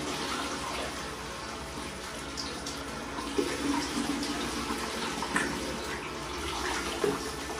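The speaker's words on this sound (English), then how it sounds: "I'm hoping I can run this whole system with maybe one power head. But look how strong that thing is." A power head pump circulates water in a 30-gallon Innovative Marine lagoon aquarium with live rock, giving a steady, faint rushing and splashing of moving water with small bubbling bursts.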